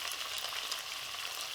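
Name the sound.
bulgogi paste sizzling in hot pan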